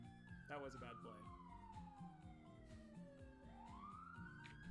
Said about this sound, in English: I don't know if you guys can hear sirens outside